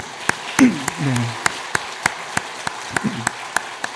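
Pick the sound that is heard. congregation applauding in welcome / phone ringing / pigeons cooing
congregation applauding in welcome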